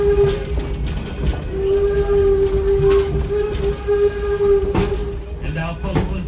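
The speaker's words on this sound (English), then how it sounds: "let's take a few moments to sit back and relax and enjoy the sights and sounds of railroad as it was in the late 1800s and early 1900s" Weiser Railroad steam locomotive number 7, a 72-ton engine at Greenfield Village in Dearborn, Michigan, runs close by and sounds a steady whistle over the hiss and rumble of the train.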